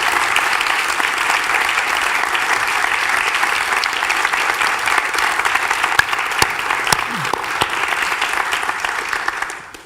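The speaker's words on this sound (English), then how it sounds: "let's give Clarence a round of applause for this." An event audience applauds Clarence, a sustained, even wash of many hands clapping for nearly ten seconds, with a few sharper individual claps standing out before it tapers off at the end.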